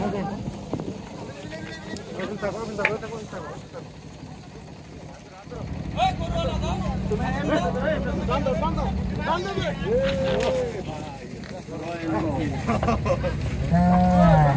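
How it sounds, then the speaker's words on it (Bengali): Large cows at a busy rural cattle market in Faridpur, with several drawn-out moos at moderate distance amid crowd chatter and people talking throughout. "এই বিশাল দেখি একটা গরু আসতেছে"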